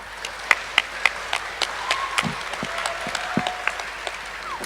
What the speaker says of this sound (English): Please give a round of applause for the attendees.